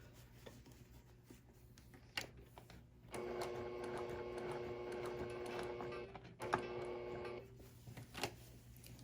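A sewing machine top stitching a bag runs in a quiet room, with a soft steady mechanical whir in the middle and a few faint clicks and handling noises before and after.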